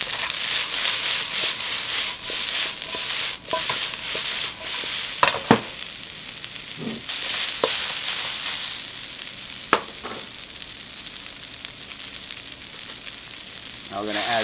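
Broccoli and chicken sausage stir-frying in hot oil, a steady loud sizzle running throughout with occasional scraping stir strokes and clatters.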